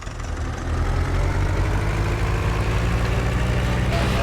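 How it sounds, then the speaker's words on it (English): A small, cheap tractor with a tiny engine idles steadily in Farming Simulator 19, a low continuous rumble that swells up in the first half second and then holds at a constant level. "This is exactly why I bought this tractor."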